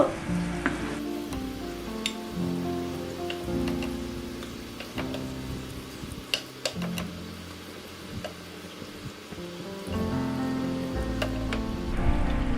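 Chapli kabab in Old Dhaka style fries in a small amount of oil, giving a continuous crackling sizzle with small pops that stays fairly even throughout, with no talking.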